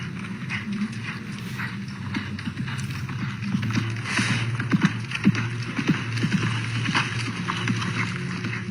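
Hooves of a ridden horse clip-clop in a steady, fairly close rhythm of repeated light strikes, heard alone against a low background hum.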